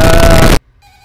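A telephone rings loudly and harshly for about half a second before cutting off abruptly, leaving a faint, thin tone trailing behind.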